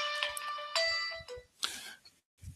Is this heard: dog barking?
no